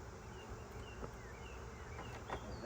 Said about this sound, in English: A whole bunch of bees over here.